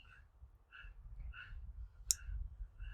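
A single sharp mouse click lands midway through, near and crisp, against a quiet room with faint low rumble and brief soft tonal chirps.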